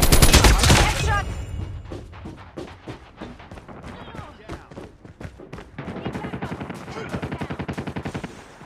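Call of Duty Mobile gunfire, with an opening blast followed by a quick run of sharp shots and then a rapid automatic burst, mixed with a game announcer's voice calling out.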